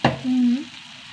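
Powdered spices, including chili, coriander, asafoetida and sambar powder, sauté briefly in a pan: a short stirring clatter, then a soft sizzle and a faint hum, heard close.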